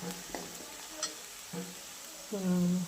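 Onion being roasted and stirred in a pan, heard as soft sizzling broken by a few scraping stirs, then a louder, brighter sizzle surge near the end, with no talking.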